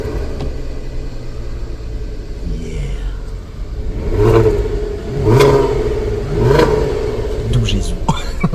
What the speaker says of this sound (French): On va faire un petit démarrage comme ça parce que c'est un V6,